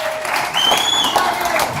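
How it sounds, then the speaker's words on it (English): Audience applause at a comedy show in IBU Brewing Company, a steady wash of clapping filling the room for nearly two seconds with crowd noise and a voice mixed in. "Now let's give a round of applause to Mike and Mike in the morning there for making this all happen"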